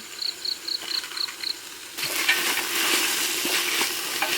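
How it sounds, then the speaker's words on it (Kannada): Soaked peas tipped into vegetables frying for pulao, giving a close sizzle that swells suddenly and stays loud, after a quieter stretch with faint, regular chirping. "ನಾನು ಜಜ್ಜಿ ತಂದ ಸ್ವಲ್ಪ ಸ್ವಲ್ಪ ಬಟಾಣಿ ಹಾಕುವ ಇದು ನೀರಲ್ಲಿ ಇಟ್ಟ ಬಟಾಣಿ"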